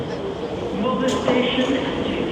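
A steady rumble of a Singapore metro train carriage in motion, with rattling and a muffled hum, while a person talks over it.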